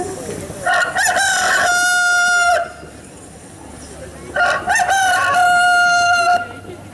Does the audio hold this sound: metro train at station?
no